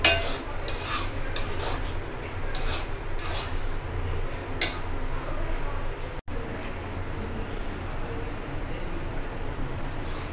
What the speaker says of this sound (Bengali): বেশ কিছুক্ষণ ভেজে নিচ্ছি।